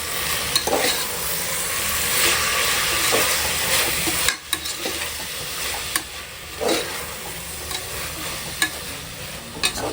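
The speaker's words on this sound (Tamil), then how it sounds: "அது வதங்கிட்டு இருக்கு" Tomatoes sautéing in a hot pan for a home-cooked biryani after ginger-garlic paste, mint and coriander go in, with a steady loud sizzle and repeated scraping stirs of a spoon across the pan.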